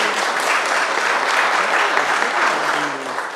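Audience applause fills a city commission meeting in Dunedin, a steady, dense clapping from many hands that holds at a constant level for the full stretch without pause.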